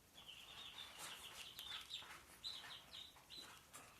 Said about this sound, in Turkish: Fonda yine civcivlerin sesi var.